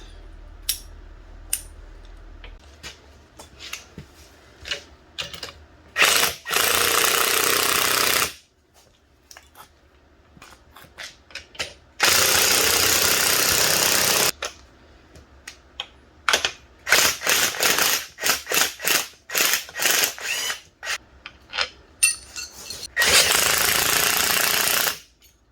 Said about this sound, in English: one of the sketchiest tools known to man, the strut spring compressor